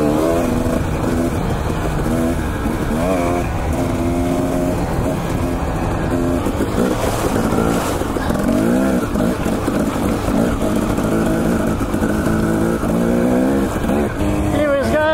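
Two-stroke dirt bike ridden on a lookout trail near Deadwood, Idaho, its engine loud and close throughout with rising and falling revs and constant wind rumble.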